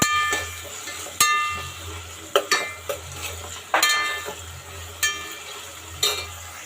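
A spoon scrapes and clinks against a metal pot while ginger garlic paste is stirred into khichdi, giving several sharp metallic knocks at irregular intervals over a low background hum.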